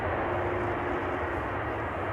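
A broad, sustained roar of jet engines fills the air at constant loudness as an airliner uses thrust reversers on landing at Amsterdam Schiphol Airport, with no talking.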